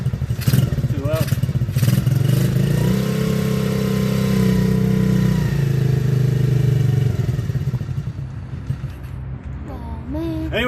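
A Coolster 125cc engine runs loud with a rough, unsteady idle, a close, continuous mechanical clatter and drone that fades near the end as a voice speaks briefly.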